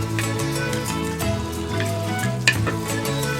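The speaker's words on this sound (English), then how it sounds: "and then seal it off in the pan" Flour-dusted zebra steak sears in a pan with butter and oil, giving a continuous, fairly loud sizzle and crackle with a few brief pops over a steady low tonal background.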